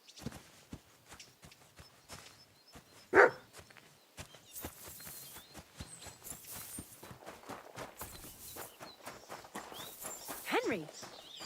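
A dog barks in the medieval game Kingdom Come: Deliverance 2, a short sharp bark mixed with footsteps, hoof-like clopping and voices in the background.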